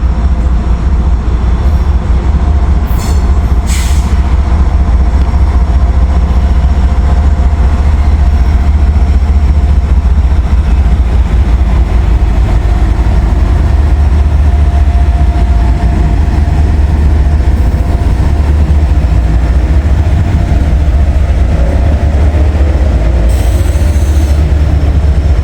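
A freight train led by EMD diesel locomotives rolls past close by, a steady loud rumble of engines and railcars with occasional wheel squeal, continuous for the whole stretch.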